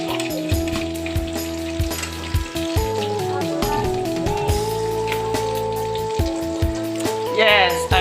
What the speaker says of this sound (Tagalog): I'm cooking hotdog with my hotdog